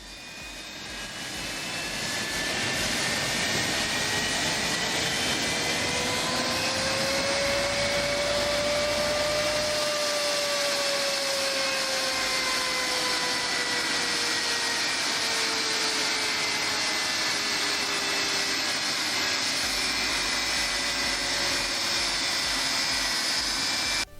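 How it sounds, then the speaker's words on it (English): A DC-10 jet engine on a ground test run roars loudly and continuously with a steady, rising whine, close and unbroken throughout. "This DC-10 engine unleashes fiery bursts, igniting the ground with its blazing power resembling afterburner engines during a thrilling engine"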